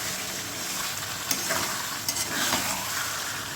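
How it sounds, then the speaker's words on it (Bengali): Pigeon meat stirred and frying in oil over low-medium heat, a steady broadband sizzle with a few scraping stir clicks from the utensil, close and continuous with no talking. "আমি এই মাংসটাই তেলের মধ্যেই খুব সুন্দর করে একটু নেড়ে চেড়ে"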